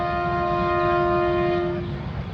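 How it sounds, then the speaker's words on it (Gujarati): A passing train near Damnagar sounds a long, steady horn over the low rumble of rail cars rolling close by. The horn cuts off toward the end while the rumble continues. "રેલગાડી આવી જો અહીંયા રેલગાડી"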